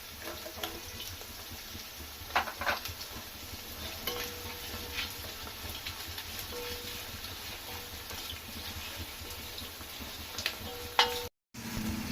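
Green chili and carrot are stirred in a frying pan with onion, giving a steady low sizzle with scraping of the spoon throughout and a brief drop-out near the end.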